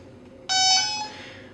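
A New Direction K9 carp fishing bite alarm sounds suddenly, a loud steady high-pitched electronic beeping chime that holds briefly then fades slightly, with no voices.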